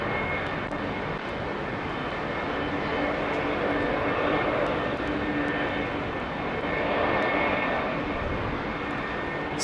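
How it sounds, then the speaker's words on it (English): At London Heathrow Airport an airplane taxis, its jet engines producing a steady, loud whine and roar that swells gently and fades back, heard from fairly close for the whole stretch. "Tom Collins, we're taxiing now."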